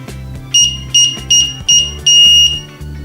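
Five short, bright electronic beeps from a DG185 digital keypad, evenly spaced with the last one held slightly longer, heard up close over soft background music.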